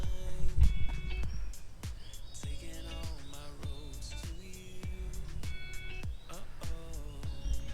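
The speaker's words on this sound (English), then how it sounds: "Hear a little bit of traffic in the distance, but mostly birds you can hear" Birdsong fills a calm morning near a dam in Ranong, with repeated chirps and whistled phrases from several birds, some close and some farther off, over a low steady rumble of faint distant traffic.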